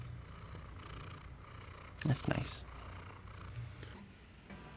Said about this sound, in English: More purring.